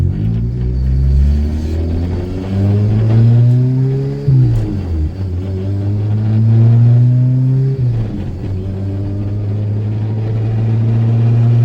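A deep supercharged K-series engine in a Lotus Elise revs through the gears from inside the car, rising in pitch, dropping at each shift, and climbing again.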